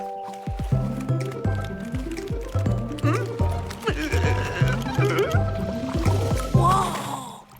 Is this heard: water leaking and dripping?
yes